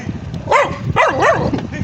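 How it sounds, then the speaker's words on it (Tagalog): A dog gives chase along a rural road in rolling hills, letting out a few wavering, yelping barks in quick succession close to the listener, over steady road and motion noise. "Habol pa yung aso eh"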